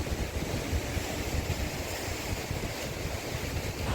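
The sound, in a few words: sea waves on the shore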